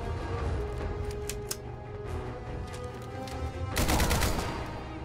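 Rapid gunfire from the player's weapon in the game Fallout 4, a quick burst of clicking shots early, then a louder sustained volley near the end over a steady low background hum.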